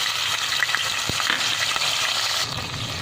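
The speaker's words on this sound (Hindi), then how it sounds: "मसाले को अच्छे से फ्राई करेंगे" Spices frying in a pan with ginger-garlic paste after cumin, curry leaves and whole red chillies, a steady close sizzle with light stirring scrapes and small pops throughout.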